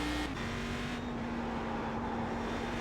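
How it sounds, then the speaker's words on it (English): A Cadillac CTS-V race car at Spa-Francorchamps in the iRacing simulator holds a loud, steady engine drone from the cockpit, with one brief pitch drop as it shifts near the start. "I do enjoy racing the Cadillac."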